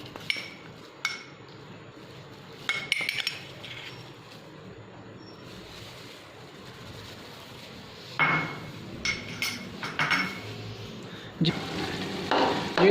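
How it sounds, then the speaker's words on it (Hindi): Chicken korma masala with dry coriander frying in a pan on low heat, with occasional stirring and scraping of a spoon against the pot over a soft background sizzle. "अब हम इसे हल्की आंच पे फ्राई कर रहे हैं"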